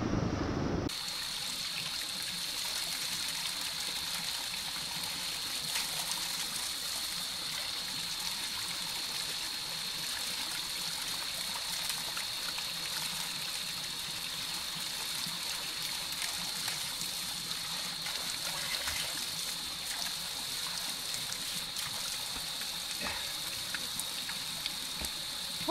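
Mountain spring water runs steadily throughout, a continuous broad rushing wash with a bright hiss, fairly close and unbroken, with no voices over it.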